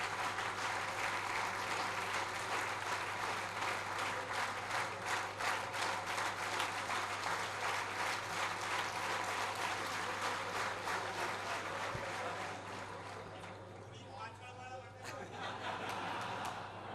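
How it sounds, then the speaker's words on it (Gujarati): Sustained audience applause for a Mehsana seva group at a ceremony: dense, steady clapping from a large crowd for about twelve seconds, then thinning into scattered claps with murmuring voices. "હાર્દિક માટે તાળીઓ વગાડી કે મહેસાણાના ગ્રુપ માટે તાળી વગાડી?"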